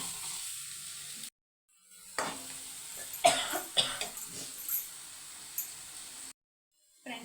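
Chili powder being stirred into frying egg rice makes a soft, near sizzle with scraping stirs and a few sharp bumps, broken by short silent gaps.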